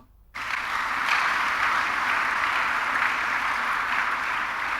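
A church congregation bursts into sustained applause after a sermon passage, starting abruptly and continuing as a steady, dense wash of clapping from many hands.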